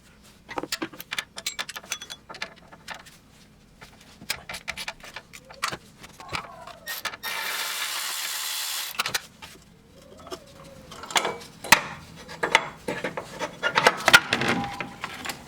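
Tensioner and tensioner pulley bolt being worked loose with an E14 socket and extension through the wheel well of a first-gen Chevrolet Cruze 1.8L, giving scattered ratchet clicks, metallic taps and scraping, with a steady whirring stretch in the middle.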